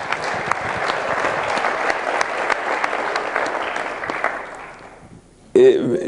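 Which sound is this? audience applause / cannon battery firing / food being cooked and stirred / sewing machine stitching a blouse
audience applause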